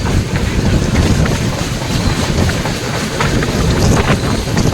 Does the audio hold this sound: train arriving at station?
yes